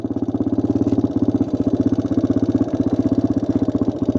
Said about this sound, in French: J'ai jamais conduit un quad sous la neige.